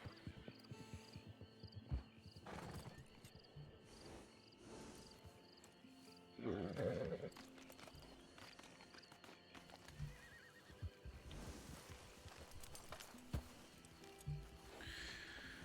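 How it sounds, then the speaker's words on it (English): Wild horses neighing and whinnying alongside clip-clopping hooves in a desert area of a video game, set against a steady ambient outdoor backdrop with insect-like chirps. "the wild horses are really active around here"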